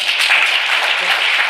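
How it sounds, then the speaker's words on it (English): A workshop audience applauds in a dense, continuous wash of clapping that stays loud and even for its short length, with some voices mixed in. "Give them a big clap."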